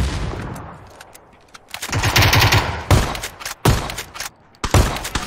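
Shotgun fire in the video game PUBG: Battlegrounds sounds as a string of loud, sharp blasts at irregular intervals, some close together, with brief quiet gaps between them.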